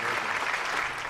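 Canned applause from a live-stream soundboard button, a brief dense burst of crowd clapping heard alone for about a second.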